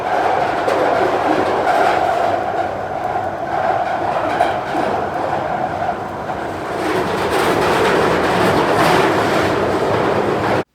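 Deafening interior noise of a London Underground Central line train in motion, a loud continuous roar with rattling and screeching that swells toward the end, with no voices.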